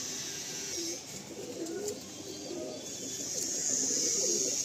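A male Madrasi pigeon coos repeatedly in soft rolling phrases at close range over steady background hiss, with no talking.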